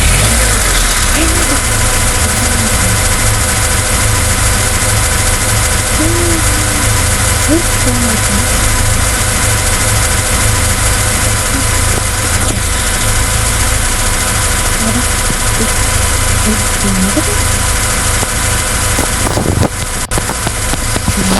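A car engine idles steadily in Minecraft, a loud, continuous hum that holds unchanged for about twenty seconds before a brief shift near the end.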